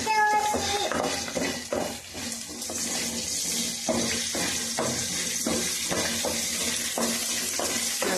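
Onions frying in a pan until golden brown give off a steady, close sizzle with soft crackles and no one talking.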